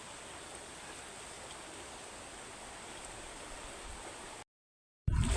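River water flows with a steady, even rush of noise, moderately soft and unbroken, before a brief drop to silence and a sudden louder burst at the end.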